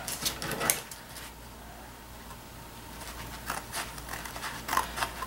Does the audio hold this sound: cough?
no